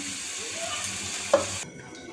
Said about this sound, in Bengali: আমি উঠিয়ে নিয়েছি এবং আরেক ব্যাচ ভাজার জন্য দিয়ে দিয়েছি